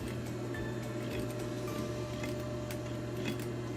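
A sewing machine stitches fabric with a steady, fast mechanical whir and ticking, close and continuous throughout.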